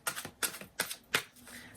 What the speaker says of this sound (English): Shuffling now from the Mystic Mondays deck